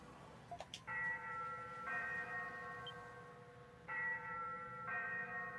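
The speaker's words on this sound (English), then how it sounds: "The ship's bell." A ship's bell in the video game Ys VIII rings in repeated sustained tones, with a few faint knocks before the first strike and about four strikes spaced a second or two apart, each ringing on.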